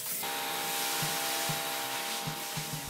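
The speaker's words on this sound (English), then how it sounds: "just need to remove the covers and clean it with the air compressor" Compressed air blasts out of an air compressor nozzle to clean out a plastic shredder, a close, steady hissing rush broken by a few short bursts and knocks, with no voices.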